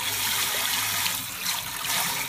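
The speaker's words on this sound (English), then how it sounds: "So you rinse your rice out and you really move it around" Rice swished around in a bowl of water during rinsing gives a continuous close watery sloshing and trickling, steady and fairly loud for a couple of seconds.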